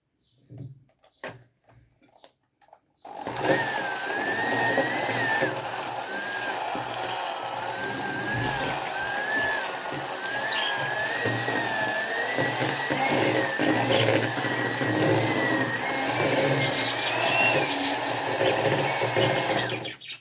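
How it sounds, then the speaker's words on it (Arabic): An electric hand mixer beats a cake dough mixture, starting after a few soft knocks and then whirring loudly and continuously with a slightly wavering whine for the rest of the stretch. "هنضرب بقى كل ده بالمضرب"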